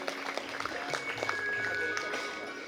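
An audience at a college gathering applauds, a steady patter of clapping from many hands that carries on without a break.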